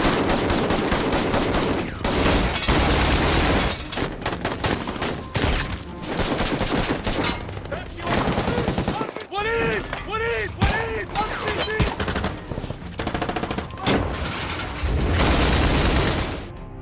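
Heavy gunfire fills a shootout as a SWAT team is ambushed by militants in an action film, with rapid automatic bursts, single shots and booms, loud and dense throughout, with shouted voices mixed in.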